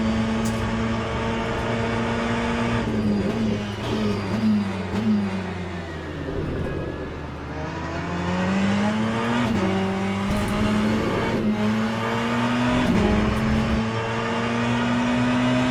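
Ferrari 488 race car engine in the Le Mans Ultimate racing game at Bahrain, revving hard through the gears with rising and falling pitch sweeps, loud and continuous throughout with a slight dip midway.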